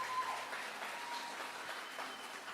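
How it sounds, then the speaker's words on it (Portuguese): A church congregation applauding its team during a revival service, steady dense clapping at moderate distance that holds evenly from start to end. "vamos aplaudir o Senhor por essa equipe maravilhosa"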